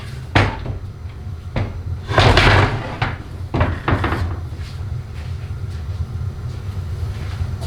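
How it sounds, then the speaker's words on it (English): Metal clunks and scrapes as a pry bar levers the pump out of a 4L80E automatic transmission case during a teardown, several sharp knocks spaced apart over a steady low background hum. "to get the pump out, you can use either a large flat-headed screwdriver or a pry bar"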